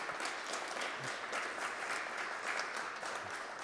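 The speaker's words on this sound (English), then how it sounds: "You can clap too if you want." Audience applause at the end of an intelligence fundamentals presentation: a steady, dense wash of many hands clapping for a few seconds, moderately distant and fairly quiet, with no voices.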